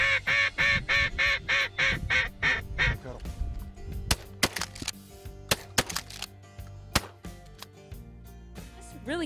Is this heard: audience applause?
no